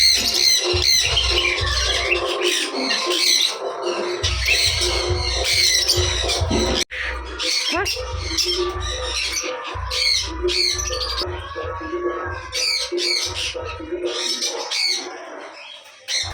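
Birds kept in a backyard bird house squawk and chirp in dense, overlapping bursts, loud and close, with occasional cooing and wing flaps and no voices.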